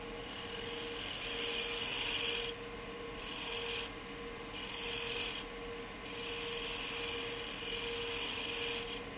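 A negative rake scraper is drawn across a wood surface in repeated strokes, giving a soft, close rasping scrape that comes in several passes with brief pauses between them.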